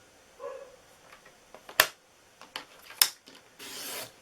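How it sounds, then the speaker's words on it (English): A new paper trimmer cuts a piece of card, giving two sharp slicing snaps amid quieter rubbing and handling noises, followed by a brief scraping rasp at the end. "This is our new trimmer, by the way."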